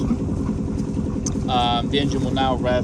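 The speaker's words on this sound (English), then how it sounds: "If you want to rev the engine out of gear, press the red button in, and any which way, it doesn't matter where, the engine will now rev." A J88 sailboat's engine runs steadily out of gear with a low throbbing idle, while someone talks over it.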